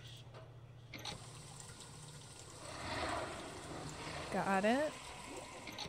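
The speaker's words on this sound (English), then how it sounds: "Please don't move. I have to pour some water on you." Water pours and splashes in the video game Fran Bow, a moderate liquid flow that swells midway and ends in a burst of bubbly gurgling, with a brief spoken remark partway through.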